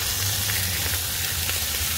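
A ground chuck burger, 80/20, sears on a Blackstone griddle with a loud, steady sizzle and hiss of frying fat, close up and continuous, with no talking.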